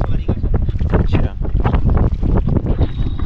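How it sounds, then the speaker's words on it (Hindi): Strong wind gusts over a lake during a boat ride in Nainital, loud and continuous, buffeting the microphone with rumbling low-end bursts throughout. "भाई बहुत तेज़ हवा चल रही है भाई"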